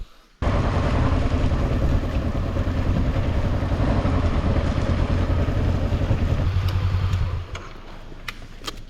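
A motorbike in Belize makes a short ride with a loud, steady engine drone and wind rumble that runs continuously for several seconds, then drops sharply as it slows near the end.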